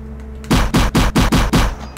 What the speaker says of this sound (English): I wish the gun felt better shooting.